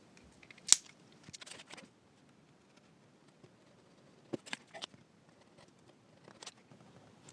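Knife blade drawn through wood veneer on a folding-knife handle in a workshop, making a sharp scraping score followed by a few fainter scratchy passes, close and quiet with pauses between strokes.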